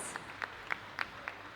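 Faint, evenly spaced claps, about six over a second and a half, come from an audience at a youth character dance competition, sounding distant and thin rather than a full ovation.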